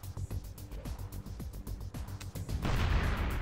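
Grenade and gunfire blasts in Metal Gear Solid: The Twin Snakes, with rapid booming bursts and pops over a game soundtrack that ends in a loud, sustained roar of explosion.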